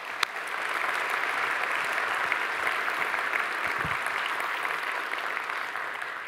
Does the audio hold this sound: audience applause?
yes